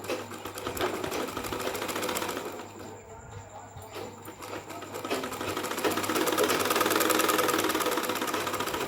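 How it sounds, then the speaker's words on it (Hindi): A sewing machine stitches a salwar, running close and steady in one continuous whirring hum for the whole stretch, with only a brief dip in pace midway and no talking. "तो देखिए इस तरह से सिलाई लगाएं।"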